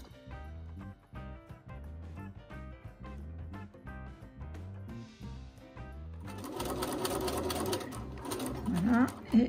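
A sewing machine stitches two fabric layers for a patchwork basket in rapid rhythmic bursts, then runs in a longer continuous stretch, close and clear, with someone speaking over it.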